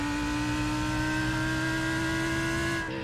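A Lamborghini Huracan GT3 race car at Long Beach accelerates with a loud, steady engine drone whose pitch climbs smoothly, heard from close in the cockpit, then a brief gear change near the end.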